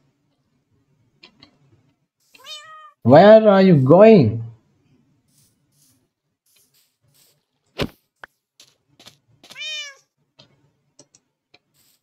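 A Minecraft cat gives one long, loud, wavering meow up close. Fainter meows come before and after it, a sharp click sits in the middle, and a person speaks briefly near the end.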